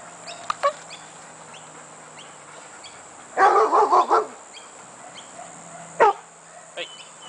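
A muzzled, stressed dog in a training session gives a quick cluster of barks in the middle, with one more sharp bark later, over a steady hum of background noise.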